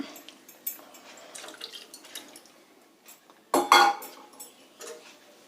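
Tamarind water being added to a pan of tomatoes for garlic rasam: scattered light clinks of a vessel, then a short, louder splash of pouring liquid, followed by a few soft knocks.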